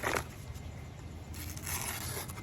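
A Milwaukee duct knife slicing through material, giving a soft, close scraping and rasping cut that runs continuously for a couple of seconds at low volume.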